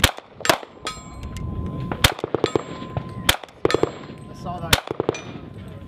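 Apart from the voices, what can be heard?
thump of a KRISS Vector gun hitting plastic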